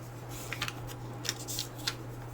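Scissors snip paper-pieced quilt pieces in a few quick, faint, close cuts over a low steady hum.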